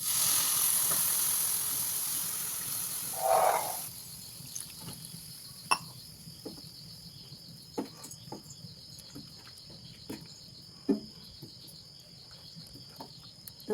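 Hot water poured into sizzling masala in a pan for chicken curry: a loud steamy hiss burst at the start that fades after about four seconds, leaving quiet crackling and scattered faint clicks.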